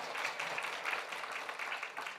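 Church congregation clapping at a Sunday morning service, a soft, steady patter of many hands spread through the room, fairly quiet and distant, with no speech over it.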